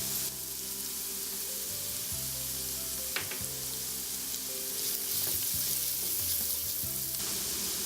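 Garlic frying in oil with onions and turmeric, a loud continuous sizzle close up, with a few stirring scrapes breaking through the steady crackle.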